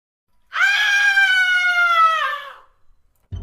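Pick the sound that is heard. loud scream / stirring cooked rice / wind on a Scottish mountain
loud scream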